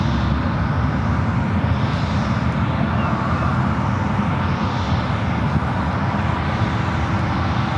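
A United Airlines Boeing 777-200 arrives at San Francisco airport, a steady loud jet engine roar with broad rumble holding level throughout and no talk.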